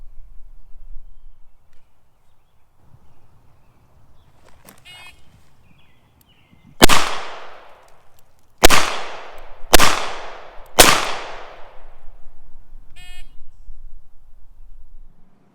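Four sharp, loud shots from a Smith & Wesson 686 revolver fired from a kneeling position during a police pistol qualification course, spaced about a second or two apart on an outdoor range, each ringing out briefly.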